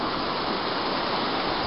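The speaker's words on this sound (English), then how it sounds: "There is the river continuing, the River Irwell" The River Irwell flowing through Burrs Country Park, a steady broadband rush of water heard close and continuous, with no voices.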